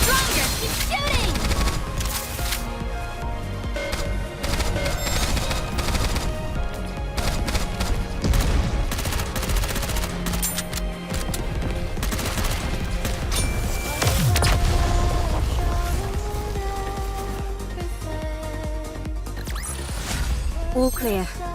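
Dense, continuous gunfire and crashing impacts from a mobile shooter game, Goddess of Victory Nikke, loud and sustained with bursts of rapid shots, explosions and music, with character voices calling out over the battle.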